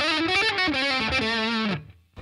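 Distorted electric guitar through a Boss Katana amp on the lead channel with an effect engaged, playing a short sustained phrase of bending, shimmering notes that cuts off abruptly, leaving a brief quiet tail.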